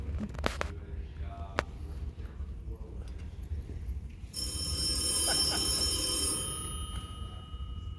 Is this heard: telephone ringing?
yes